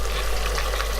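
Beef short ribs with black pepper sauce simmer in a rice cooker as the liquid reduces, giving a dense, continuous close bubbling hiss that stays even throughout the brief moment.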